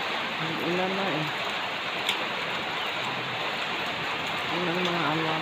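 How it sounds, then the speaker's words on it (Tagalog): Steady rain falls on a garden as a soft, even hiss, with faint voices murmuring in the distance. "Ang ulan na eh."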